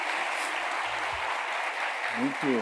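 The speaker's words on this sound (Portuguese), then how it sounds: "Paulo, salva de palmas" Steady applause from an audience fills the whole moment, with a brief voice rising near the end.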